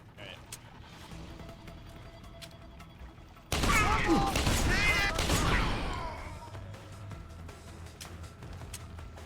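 A rapid burst of gunfire rings out for a few seconds during combat in the video game Deus Ex: Human Revolution, loud and dense over ongoing game sounds.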